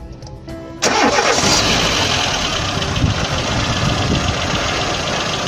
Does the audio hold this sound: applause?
no